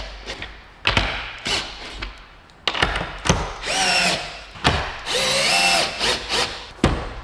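A power drill with a socket bit drives fasteners into a laminated wooden sailboat frame mold, several short whirring bursts separated by pauses and occasional thumps, close and fairly loud, no talk.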